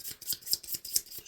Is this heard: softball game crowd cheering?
no